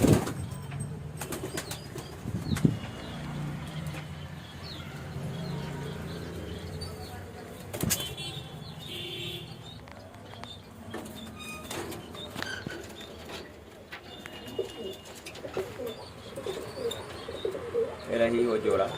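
A pair of lalsira pigeons, one of them blind, coo softly and flap their wings close by, with scattered wingbeats and chirps amid intermittent talking.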